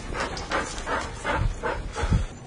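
A Navy working drug dog at NAS Keflavik pants in quick, rhythmic breathy bursts close by, about five pants over a couple of seconds, with faint low thumps beneath.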